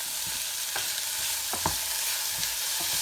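Green chillies and chopped tomato fry in a pan, making a constant hissing sizzle broken by a few soft scraping stirs, heard close with no one speaking.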